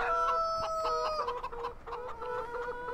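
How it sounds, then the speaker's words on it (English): Chickens in Farming Simulator 2017 cluck and crow up close, several overlapping calls in quick bursts with no talking. "Jump the fence, here's our chickens."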